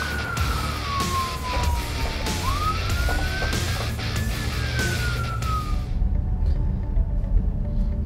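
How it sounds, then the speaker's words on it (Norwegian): Emergency vehicle siren in a driving game wails continuously with a sliding pitch over steady engine and road rumble, then cuts off abruptly near the end, leaving quieter background. "Jeg registrerer nå i spillet min at det er utrykning bak her."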